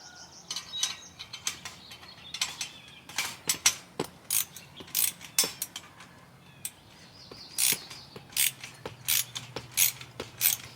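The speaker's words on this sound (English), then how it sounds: "Ratchets make the coolest sounds," A ratchet clicks in quick bursts while tightening parts on a garden wagon, with sharp close clatters separated by short pauses, repeated many times outdoors.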